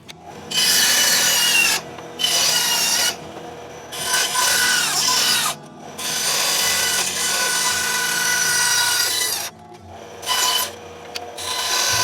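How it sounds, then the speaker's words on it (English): A bandsaw cuts through a wooden dowel, close and loud, in a series of rasping bursts broken by short pauses, with no talking. "And I'm just cutting that out on the bandsaw."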